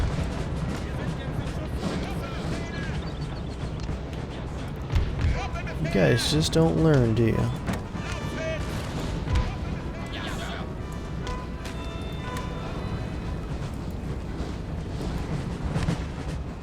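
Cannon and artillery fire in a Napoleonic-era battle in Napoleon: Total War, with horse artillery and enemy cannons exchanging shots: a dense, continuous rumble of distant booms, louder around the middle, under steady talk from a man.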